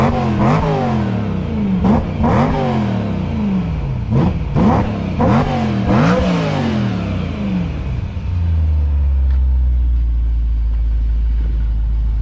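Car engine revved through its exhaust in a series of sharp throttle blips, roughly one every second, each rising and falling, before settling into a steady low idle rumble; close and loud with no talking.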